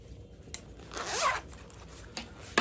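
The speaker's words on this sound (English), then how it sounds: "Hers has a little zipper on the back." A zipper on a Vera Bradley bag is pulled in one short rasping stroke, close and clear, with a few faint handling clicks before and after and no talking.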